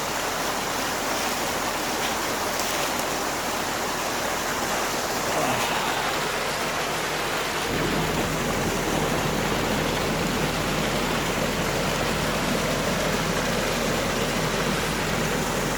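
Water rushes steadily through a breached duck pond dam, a loud, continuous roar and wash close by, growing fuller and heavier partway through, with no talk over it.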